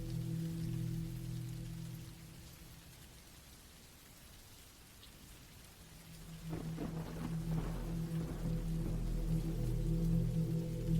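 Steady rain falls outdoors at a camping spot in the woods, a constant hiss with low rumble that swells louder after a quieter stretch, with patter and splashes coming through near the end.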